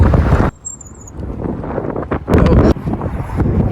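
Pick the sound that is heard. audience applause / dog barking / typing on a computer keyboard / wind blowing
wind blowing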